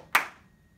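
A single sharp handclap, close and clear, followed by a brief fading ring and then quiet, part of a quaver and crotchet rhythm being clapped.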